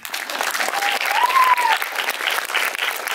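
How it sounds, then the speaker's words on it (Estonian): Audience applause at a short-film event as people are thanked, loud sustained clapping from a crowd with a brief whistle-like tone rising partway through. "Andren Niinemets, suur aplaus talle, aitäh talle."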